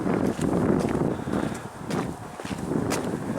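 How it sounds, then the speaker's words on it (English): Gusty wind buffets the microphone on a ridge at Rocky Glen Park, a close, rumbling rush that rises and dips in uneven surges with faint rustling and footfalls. "it's getting a little windy up here on the ridge."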